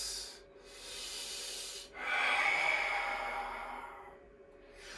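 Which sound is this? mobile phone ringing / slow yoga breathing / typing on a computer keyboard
slow yoga breathing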